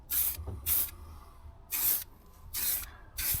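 Aerosol spray paint misted onto the rusty sill of a Ford Transit van in five short, even bursts of hissing spray, each under a second long with brief pauses between, close and fairly quiet.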